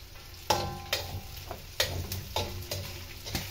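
Chicken gets stirred in a cooking pot for chicken tinola, with a spoon scraping and knocking against the pot in several uneven strokes over a soft sizzle, close and fairly quiet.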